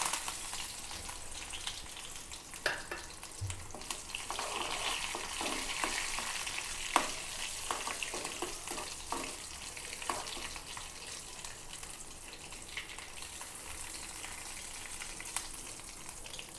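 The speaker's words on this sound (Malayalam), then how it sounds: "വറ്റൽമുളക് ഇട്ട് കൊടുക്കാം. കറിവേപ്പില ഇട്ട് കൊടുക്കാം." Dried red chillies and curry leaves frying in hot oil after mustard seeds are popped, with the heat off. The oil gives a steady close sizzle with scattered sharp pops and crackles throughout.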